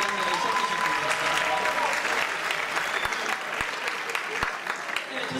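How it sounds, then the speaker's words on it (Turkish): Audience applause for tango dancers at an intercollegiate university dance show, dense and steady clapping filling the hall from start to finish, with a faint voice or tone drifting underneath. "Onlara kuvvetli bir alkış oldu"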